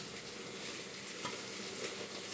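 Tomato dal with water added is stirred in a pot, giving a quiet, continuous low sizzle with soft scraping of the spoon; one faint clink stands out midway, and no one speaks.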